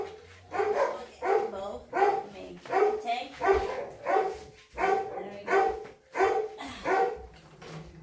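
Dogs bark repeatedly at an Amazon delivery machine going off, in a steady rhythm of loud, close barks, about one every second, with no talking.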